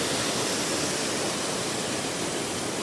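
Waterfall on a Lake District walk near Windermere, water pouring down a broad runoff from a dammed section: a loud, dense, steady rushing roar with no breaks.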